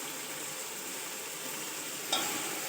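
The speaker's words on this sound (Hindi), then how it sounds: "टमाटर बहुत अच्छे से फ्राई होकर नरम हो चुके हैं" Tomatoes frying soft in a pan for chicken and vegetable pulao, a steady close sizzle running evenly throughout, with a brief clink or stir near the end.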